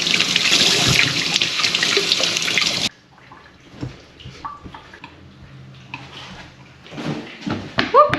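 Potatoes being washed under a running kitchen tap, a loud steady gush of water for about three seconds that then stops, followed by quieter clinks and handling sounds at the sink.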